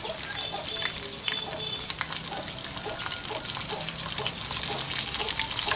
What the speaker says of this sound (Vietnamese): giờ mình bỏ vô mình chiên cho nó giòn